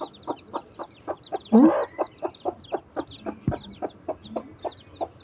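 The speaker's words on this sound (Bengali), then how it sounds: "গলাচল্লা মুরগি হয়েছে দুইটা" A hen clucks in a quick, even rhythm of short repeated notes, close by, with a brief louder squawk near the start.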